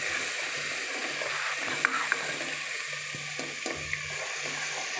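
Oil sizzles and crackles steadily in a pan as curry leaves are added for tempering, with a faint stirring scrape and a few small pops over the constant frying hiss.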